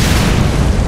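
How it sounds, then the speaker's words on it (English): A grenade explosion in the video game Ghost Recon Phantoms, a loud, dense, rumbling blast that fills the whole short moment with no clear start or decay. "Grenade, great."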